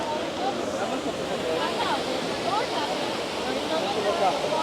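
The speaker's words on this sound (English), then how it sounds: "It's the Trevi Fountain, and it's absolutely beautiful." Water of the Trevi Fountain in Rome pours and splashes in a steady, loud rush that fills the whole clip, with a busy tourist crowd murmuring underneath.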